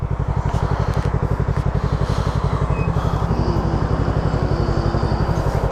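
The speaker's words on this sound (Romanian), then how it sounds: "De rateuri motorul tău?" Motorcycle engine running with a steady, rapid pulsing beat, close and fairly loud, with slightly uneven firing throughout; no voices.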